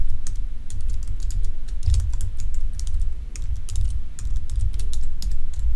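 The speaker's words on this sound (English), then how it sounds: "Okay, so I can type the title." Typing on a computer keyboard while entering a drawing title in AutoCAD: a steady run of quick, close key clicks with brief pauses over a low room hum.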